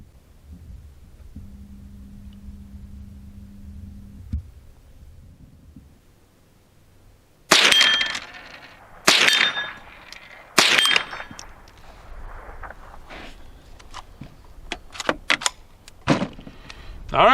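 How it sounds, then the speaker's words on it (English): A Rock Island Derya TM22 .22 rifle fires at an outdoor range: three loud, sharp reports a second or so apart, followed by lighter clicks and handling noises, after a quiet lead-in. "let's go back out to the range and put just a few more rounds through this"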